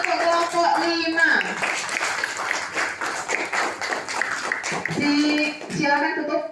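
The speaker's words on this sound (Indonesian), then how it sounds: "Kemudian tepuk tangan untuk kelompok 5" Classroom applause for group five, scattered hand clapping from children and a teacher running steadily for several seconds, with voices talking and calling out over it.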